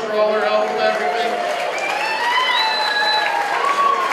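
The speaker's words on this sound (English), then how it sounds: "Can we give them a round of applause for all their help with everything?" Audience applause for the Marlin Club crew at a fishing tournament captains meeting, a steady wash of clapping with crowd voices and tonal chatter running through it.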